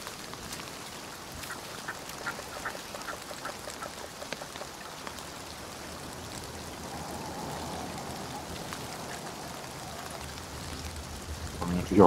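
Rain falling in the Hunt: Showdown game, a steady close patter of drops on surfaces with scattered heavier splashes, continuous at moderate loudness while people talk now and then.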